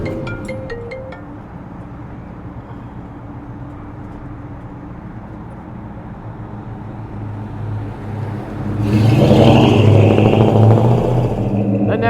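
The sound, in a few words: 1967 Ford F-100 pickup truck driving on the freeway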